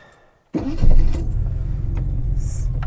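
A Jaguar XJC engine cranks briefly and fires up promptly, settling into a steady, close rumbling idle that runs without pause after the start.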